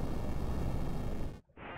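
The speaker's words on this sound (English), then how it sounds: "Mama, the mountain's falling." Mountain collapsing in the Super Nintendo game Chrono Trigger, a loud continuous rumbling roar that cuts off abruptly, then resumes after a brief gap.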